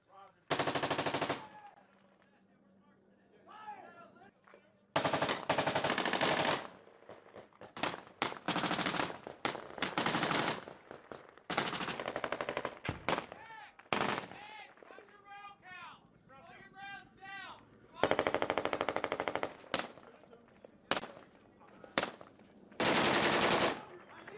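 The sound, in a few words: gunfire exchange in Sangin, Afghanistan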